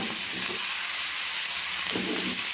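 Onions and tomato sauté in a pan for curry with a soft, steady sizzle and a faint stir or two, all fairly quiet and unbroken.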